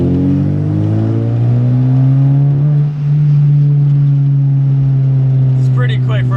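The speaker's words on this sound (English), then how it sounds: "This thing has a really good second gear pull." A Volkswagen Jetta truck with a 2.0 engine pulls hard in second gear, its steady mid-pitched engine note rising slightly as it accelerates, loud and close throughout, with a brief dip midway.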